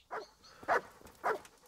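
Dog in the medieval game Kingdom Come: Deliverance barks three separate times at a moderate distance, short gruff woofs spaced about half a second apart, fairly faint.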